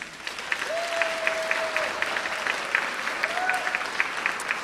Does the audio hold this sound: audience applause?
yes